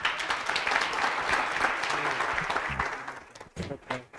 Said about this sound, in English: Let's clap hands for Calvin.